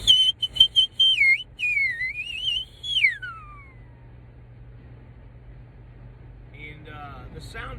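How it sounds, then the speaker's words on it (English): A piercing mouth whistle, made with the tongue under the two front teeth, warbles up and down and then slides downward over about three seconds, loud and close, before fading into quiet room noise. "But this is the loud whistle."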